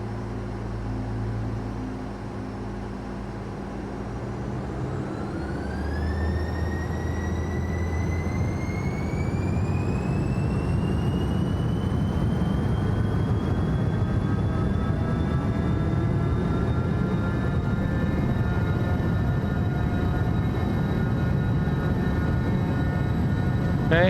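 Airliner jet engines spool up during the takeoff roll in a flight simulator, a steady roar with rising whine building louder over time while a voice calls out speeds.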